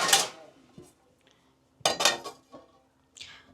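A metal lid set onto a cooking pot of gravy, sharp close clanks and clinks in a few separate bursts with short quiet gaps between them.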